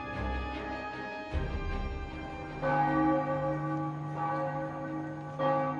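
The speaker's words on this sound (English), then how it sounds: "On the ground, the bells in Amiens Cathedral began striking 12." The large bells of Amiens Cathedral toll twelve in slow, evenly spaced strikes, each deep ring lingering and overlapping the next.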